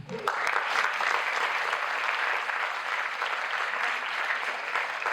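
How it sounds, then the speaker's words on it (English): Steady, dense applause from a large audience, clapping continuously at full strength for several seconds. "The applause speaks for itself."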